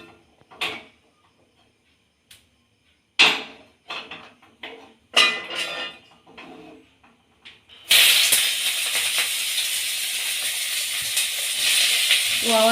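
Chopped onions hit hot oil for a biryani and burst into a loud, steady sizzle, preceded by scattered clinks and clatters of pots and utensils in a quiet kitchen.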